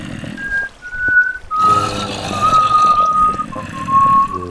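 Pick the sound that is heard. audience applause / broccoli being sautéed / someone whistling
someone whistling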